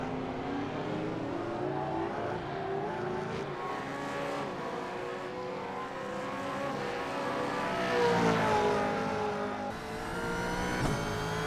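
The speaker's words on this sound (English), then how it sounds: "enjoy this off-board camera because these cars are awesome. They sound cool." Supercars in a racing video game roar down the main straight, a steady loud engine drone with rising and falling pitch as gears change, continuous for about eleven seconds with no talk.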